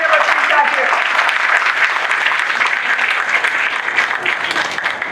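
Applause at a political party meeting, a dense, loud burst of clapping from a large indoor crowd that continues steadily throughout without a pause.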